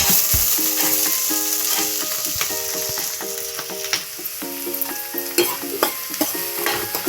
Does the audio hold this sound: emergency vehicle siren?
no